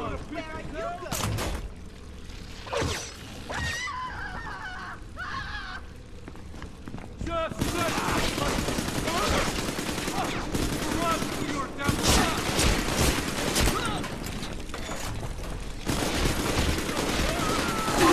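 Rapid automatic gunfire from a machine gun in the video game Bioshock 2, loud sustained bursts filling the second half after scattered shots and game effects, with a voice talking over parts of it.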